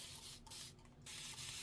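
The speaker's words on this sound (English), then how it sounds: "So I'm just spraying just right around this square part." Steady hissing bursts of a spray bottle misting water onto quilt fabric, with brief pauses between pumps, close and fairly quiet.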